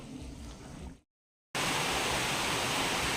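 Hot water poured into chicken curry cooking in a pot, Tripura style with bamboo shoot: after a brief silence, a loud, steady rushing pour continues to the end.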